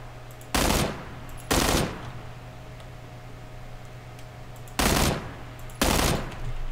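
Four loud bursts of automatic gunfire in a shooter video game, fired in two pairs with a quiet gap between them, each burst brief and punchy over a low background hum.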